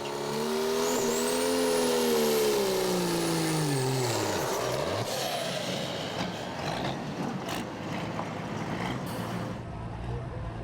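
A loud Pro Street Diesel 2.6 class pulling truck, a Dodge, revs and roars at a dirt track pull, pitch climbing then dropping, followed by dense rumbling and crackling noise as it pulls, steady and close throughout.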